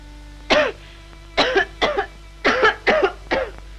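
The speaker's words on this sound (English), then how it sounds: "I cough all the time." Repeated harsh coughing from a single person, six or so close bursts in uneven succession, loud and near with no talk between them.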